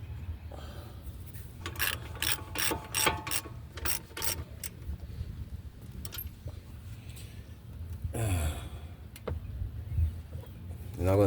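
Ratchet clicking in quick bursts while a caliper bracket bolt is tightened on a 2019 Infiniti QX60 3.5L during a front brake job, close up over low background hum, with a few metallic clanks near the end.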